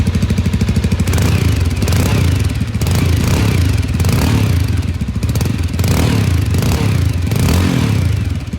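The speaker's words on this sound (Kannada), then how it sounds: "ಎಕ್ಸಾಸ್ಟ್ ನೋಟ್ ನ ನೋಡ್ಕೊಂಡು ಬರೋಣ ಬನ್ನಿ." Exhaust note of a Bajaj Avenger Cruise 220 cruiser motorcycle, a loud, steady low-pitched thumping drone that holds close and continuous throughout with slight swells in revs, no talk.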